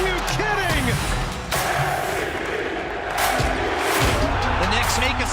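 Home crowd roaring and cheering at a New York Knicks playoff game in Indiana, loud dense crowd noise with surges and shouts, a commentator's voice talking over it.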